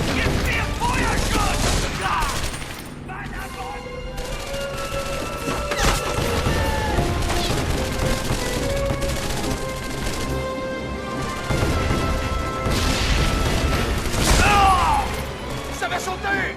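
Rapid bursts and single cracks of gunfire fill a combat scene in the Medal of Honor: Avant Garde video game on Wii, mixed with explosions, mechanical clatter and shouted voices throughout.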